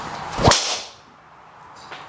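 Titleist TSR driver striking a golf ball during a fitting, one sharp loud crack followed by a quick fading whoosh, with a faint second sound near the end.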